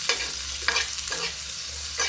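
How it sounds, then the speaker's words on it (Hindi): Chopped onion being stirred and fried in a pan for a village-style spinach curry, with a steady high hiss of frying and several distinct scraping stirs of the spoon, close and without talk. "प्याज को मिक्स कर देते हैं"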